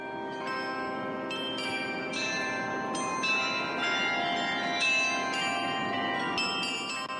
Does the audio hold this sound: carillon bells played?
yes